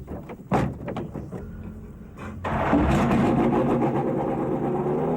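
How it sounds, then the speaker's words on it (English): A 1995 Ford Zetec R Formula One engine at the Paul Ricard circuit cranks briefly, then fires and settles into a loud, steady, raspy idle that carries on to the end. "The Zetec R starts easily and seems eager."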